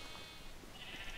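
A Minecraft sheep lets out a short, quiet bleat against soft background noise, with no speech.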